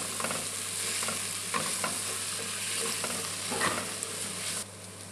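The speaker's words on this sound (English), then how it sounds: "And I add my Chinese sausage. That just gives it enough time to cook out properly, and it allows that fat to dissipate." Chinese sausage fries in a pan with a continuous close sizzle and crackle, rendering its fat, with intermittent stirring scrapes and a steady low hum underneath.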